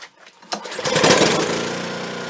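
A Honda snowblower engine is started with a pull cord: a few rattling pulls, then the small engine catches and settles into a steady, close, loud running chug.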